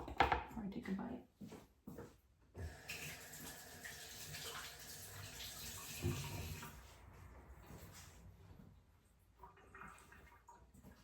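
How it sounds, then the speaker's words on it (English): Tap water running while hands are washed at a sink, a steady rush that swells in the middle and fades, with brief splashy bursts at the start and end. "let me just wash my hands before I take a bite"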